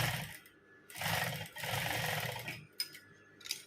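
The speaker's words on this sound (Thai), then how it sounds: "เราเย็บเล็กๆเลยค่ะ" Home sewing machine stitching a small fabric hem along a ruffled neckline, running in two steady low-pitched bursts of about a second each, close and clear with no talking.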